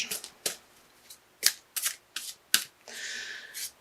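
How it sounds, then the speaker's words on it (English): Archangel Michael oracle cards are shuffled by hand, giving a series of crisp, close riffling bursts and slaps in an irregular rhythm, with one longer ruffle near the end. "to pull an additional card for you, Sagittarius, by Doreen Virtue, the Archangel Michael Oracle cards"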